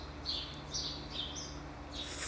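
Small birds chirp inside a truck shop, a few quick high tweets in short bursts over a quiet low hum, faint and somewhat distant, no voices.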